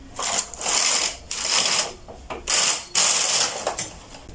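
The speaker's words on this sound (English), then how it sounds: "you move your work, you move your machine" Knitting machine carriage pushed back and forth across a punch-card knitting machine, loud close bursts of rattling, clicking mechanical travel in several passes with short pauses between.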